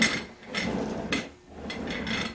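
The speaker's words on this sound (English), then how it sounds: "I'm noticing a little bit of rattling as I wheel the cooler" A loose cotter pin rattles against a washer on the wheel of a Coleman or Igloo cooler as it rolls, giving repeated close metallic clatters in uneven bursts.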